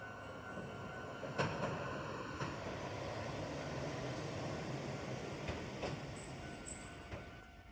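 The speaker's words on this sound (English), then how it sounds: "it was very noisy here, and trains were going back and forth constantly" Trains rumble by steadily near a tram crossing over the JR line in Osaka, a continuous rolling roar with scattered clicks and knocks of wheels over rail joints and thin high squeals now and then, fairly distant, with no voices.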